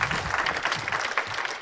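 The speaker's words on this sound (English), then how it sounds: "A round of applause for our panelists." An audience at a Maine health workforce summit applauds its panelists, a steady dense patter of clapping from many hands throughout the short burst.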